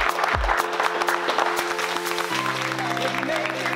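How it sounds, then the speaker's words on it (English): Applause from a crowd of athletes at a charity strength contest in a New Jersey gym, dense clapping throughout with tonal music or hum layered underneath. "So really, round of applause for all of you guys for showing up."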